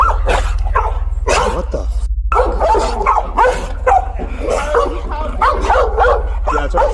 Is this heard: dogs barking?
yes